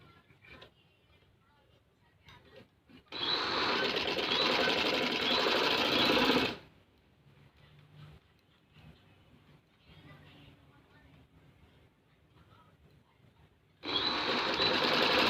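A sewing machine stitches pintucks on a shirt in two loud, steady runs, one lasting about three seconds and another starting near the end, with quieter talk in between.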